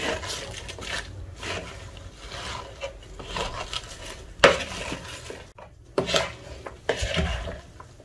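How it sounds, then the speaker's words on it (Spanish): A light cabbage salad is tossed in a bowl, with repeated scraping and clinking of utensils against dishware in an irregular rhythm, close and moderately loud, with no voices. "Y ahora mezclamos."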